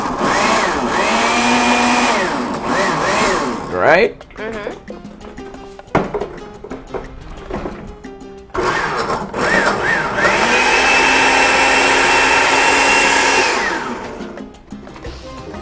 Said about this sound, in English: A little more powerhouse on the blender.